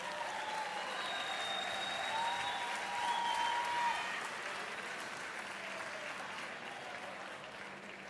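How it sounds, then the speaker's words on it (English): Applause from the audience at a Northlink College spring graduation ceremony, a sustained wash of many hands clapping that swells in the middle and then slowly tapers, with faint voices beneath. "You may clap your hands."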